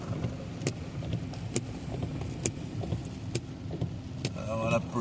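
A car drives through heavy rain in St Elizabeth, Jamaica, its engine a low continuous rumble under a wash of rain noise, with sharp intermittent clicks and a brief whine near the end.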